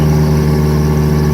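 A Mitsubishi 4G63 turbo car engine idles steadily and loudly with a droning, even hum and no talk over it. The engine has a turbo failure, and its cam gear timing is being changed.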